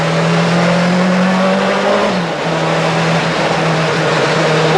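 A Peugeot 205 Turbo 16 rally car engine drones loud and close in a steady high-revving note that sags briefly midway, then holds on under continuous road and wind roar.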